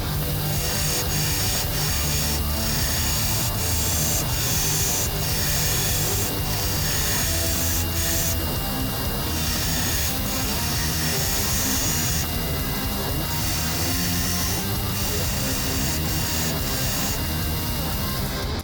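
Continuous loud abrasive rasping of a knife blade being shaped on a grinder, a steady harsh roar with slight shifts in pressure and pitch throughout and no talk.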